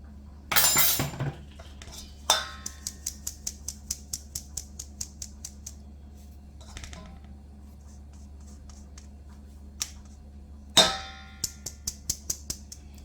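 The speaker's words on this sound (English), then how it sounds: "Adding my baking powder, but you know I'm sieving it." Baking powder is sieved into flour for a Jamaican fruit cake, with rapid rhythmic tapping and clinking of a metal sieve in short runs, close and crisp between quiet pauses.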